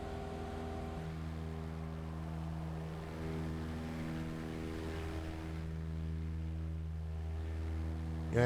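A propeller airplane drones along in a flight simulator game while flying over mountains toward Wenatchee, a steady, even engine hum at moderate level that rises slightly partway through, with no speech.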